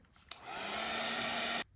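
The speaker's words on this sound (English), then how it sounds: "I'm gonna pause here, use my heat gun." A heat gun blasts steadily onto wet watercolor paint to dry it, a loud continuous whooshing roar that starts abruptly and cuts off after about a second and a half.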